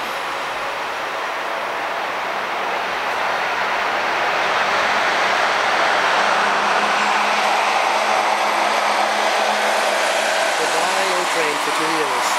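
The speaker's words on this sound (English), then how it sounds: "there goes the old train for the next 2 years." An old O-Train diesel railcar departs on the Trillium Line, a rumbling engine and rolling rail noise that swells steadily and stays loud under open-air ambience.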